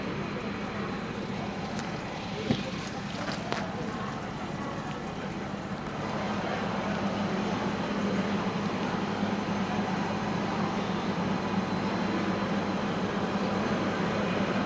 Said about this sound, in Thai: นี่คือสถานีรถไฟเนี้ยอยุธยา